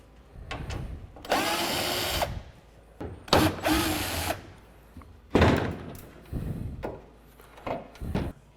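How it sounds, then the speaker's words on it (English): An 8mm socket on a ratchet or power driver removes the two inner tail light bolts on a Ford F150: several short whirring bursts, close and fairly loud, separated by brief pauses. "we got to take an 8mm socket, 2 bolts on the inside here. We just take those out"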